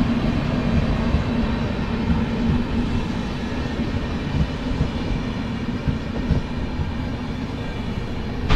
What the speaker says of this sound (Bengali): এই যে বিস্তাডম কোচ যেটা নতুন দিয়েছে, কুলিক এক্সপ্রেস, এটা হাওড়ায় যাচ্ছে